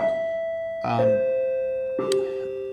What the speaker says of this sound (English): Even when the school's shut, the bells go off.